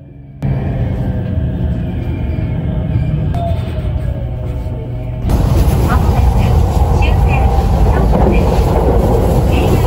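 The Maizuru limited express train pulls into Nijo station in Kyoto, heard from on board as a steady loud rumble of wheels and carriage noise that grows louder partway through, with a voice announcement over it.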